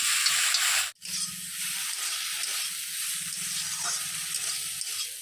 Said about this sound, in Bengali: লবণ হলুদ ও লঙ্কা গুঁড়ো দিয়ে ভালো করে আমি নাড়তে থাকবো যতক্ষণ না ভালো করে ভাজা হয়ে যায়